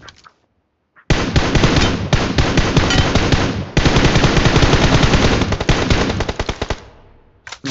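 Rapid automatic gunfire from a mobile battle royale game rattles out in long, loud, close bursts that run almost nonstop, then thin into a few spaced shots before a brief pause, with no voices over it.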